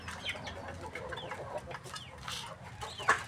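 Chickens eating feed, giving close, soft clucks and short calls over a low background murmur, with one brief louder squawk near the end.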